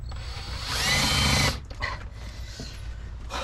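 A power drill grinds into hard metal while fitting air suspension on a Freightliner FLD12 truck, with a loud strained whine for about a second and a half, then stopping and restarting in weaker bursts.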